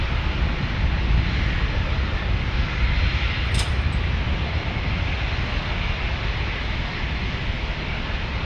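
The Lone Star 1 airliner departs San Diego with a steady, loud engine roar that fills the air without a break, and a brief faint click is heard partway through.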